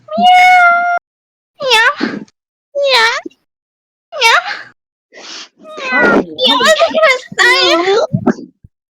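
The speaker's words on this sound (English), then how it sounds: "Who's meowing?" A cat meows repeatedly in a run of close, loud, wavering calls, the later ones more drawn out and strained, with short pauses between them and no talking.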